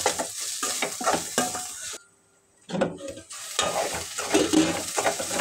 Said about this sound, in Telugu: ఆనియన్స్ కొద్దిగా మగ్గిన తర్వాత 1 టీ స్పూన్ అల్లం వెల్లుల్లి పేస్ట్ వేసి కొద్దిగా కలపడదాం.